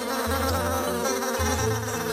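Dense, continuous insect buzzing, like many bees swarming close by, steady and loud throughout.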